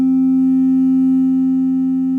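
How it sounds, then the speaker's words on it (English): Oscillator 1 of a Moog Voyager synthesizer, set to a triangle wave, holds a single loud, smooth, unchanging low tone throughout. "And I'll bring in the oscillator 1 from the Voyager now."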